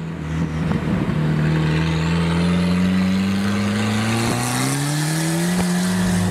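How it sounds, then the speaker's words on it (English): A Volvo 940 Turbo drift car runs loud and close, its engine drone climbing steadily in pitch as the turbo spools with a rising whistle over the exhaust, the sound steady and unbroken. "It's mainly the turbo spool sound."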